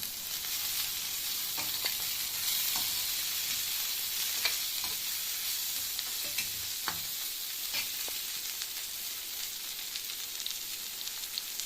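Onions and fenugreek leaves fry in a pan with a steady broadband sizzle, broken by scattered clicks and scrapes of stirring throughout, close and even in level with no voices.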